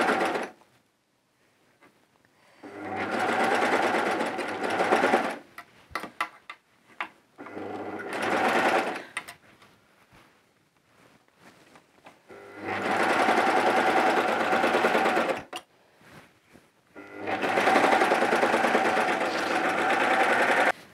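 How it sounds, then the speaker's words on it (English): A serger overlocker stitches a sleeve onto a coverall garment in four loud, steady bursts of whirring motor and needle chatter, separated by short quiet pauses while the fabric is repositioned; no one speaks. "serge this one on, making sure I don't catch any of my fabric underneath"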